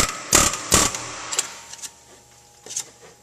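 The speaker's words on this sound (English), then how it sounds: "Take the air chisel, you put it on the side of the hex, and then you just bump it to try to turn it counterclockwise to break it loose" An air chisel bumping a hex bolt loose on an LS-type Vortec V8 during water pump replacement: two sharp rattling bursts close together, then shorter fainter taps trailing off.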